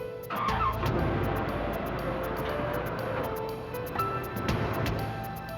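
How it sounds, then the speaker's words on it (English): A red Corvette sports car speeds away with a steady engine roar, moderately close and alone without talk, holding for several seconds. "He saw a man with dark hair and a mustache speed away in a red Corvette."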